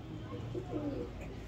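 A breeder pigeon coos softly in low, throaty rolling notes, close but faint, under a steady background murmur and light room noise.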